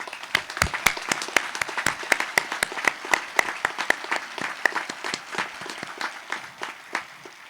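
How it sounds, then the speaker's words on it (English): Audience applause at a 2024 Manteo High School graduation commencement ceremony: a steady stretch of many hands clapping, sharp and fairly close, holding evenly for several seconds with no voices over it. "Please give them a round of applause"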